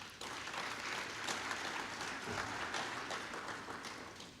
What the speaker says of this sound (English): I'm going to ask you to give them a round of applause.